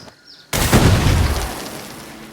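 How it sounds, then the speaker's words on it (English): An explosion goes off in the Assassin's Creed Shadows video game, a sudden loud boom after a quiet moment that rolls on into a rumbling, debris-filled tail and slowly fades. "Good explosion."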